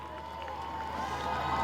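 Cricket crowd at an England women versus New Zealand one-day international, cheering a not-out decision with a broad, steadily swelling roar that grows louder toward the end.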